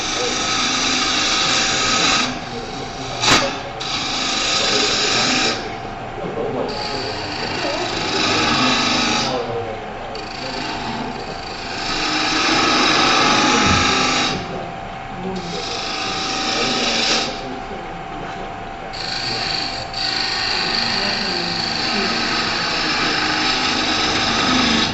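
Bowl gouge cutting soft wood such as maple on a wood lathe while turning a box, a steady whirring scrape that rises and falls across the cuts, with speech over it.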